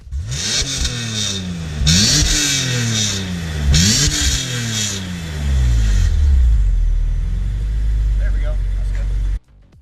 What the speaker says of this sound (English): I'm going to put up an exhaust clip in a second